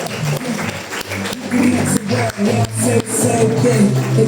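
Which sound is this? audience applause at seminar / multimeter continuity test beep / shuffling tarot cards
audience applause at seminar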